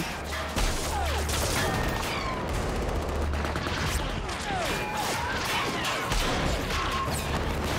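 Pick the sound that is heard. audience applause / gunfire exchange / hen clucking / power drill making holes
gunfire exchange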